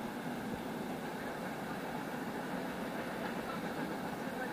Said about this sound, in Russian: Сейчас поезд проедет.